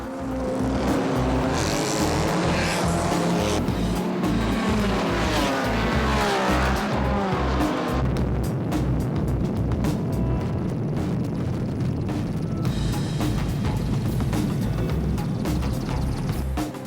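Classic race cars from 1957 to 1961 start Le Mans style at the Le Mans Classic, engines roaring loudly together while tires squeal and skid as the pack pulls away in a dense, continuous blare.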